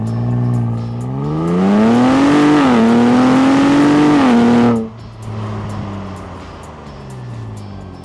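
A 2025 Ford Bronco Raptor on a cold winter day revs loudly and climbs through its engine range, then the throttle drops and it settles into a lower, steady rumble while driving. No voices are heard.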